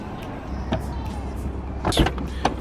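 A Tesla Model X electric door opening, a soft motorized whir with a couple of brief mechanical clunks close by, heard over a low background hum.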